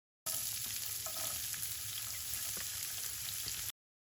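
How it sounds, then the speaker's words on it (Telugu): Finely chopped onion frying in oil in a pan, making a continuous close, even sizzle with light crackles throughout, no voices. "మనం ఒక ఉల్లిపాయ తీసుకొని దాన్ని చిన్నగా కట్ చేసి సేమ్ ఆయిల్లో మనం యాడ్ చేసి ఫ్రై చేద్దాం."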